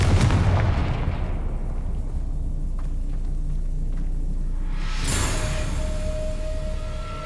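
A Confringo fire spell explodes in the video game Hogwarts Legacy: a loud, sharp burst about two-thirds through, rising from a constant deep rumble and fading into a ringing tail, with no voices.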